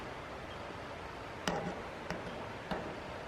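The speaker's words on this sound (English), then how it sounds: "That's the sound of the camera hitting wire." Three light, sharp taps ring out at irregular intervals over a steady background hiss as a camera knocks against a taut wire in an abandoned power house.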